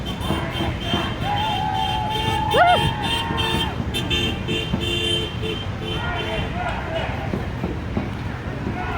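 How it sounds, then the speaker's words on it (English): Car horns honk in short toots of support over busy road traffic at a Stop TMX pipeline protest, while voices talk and chant nearby. "The honks of support"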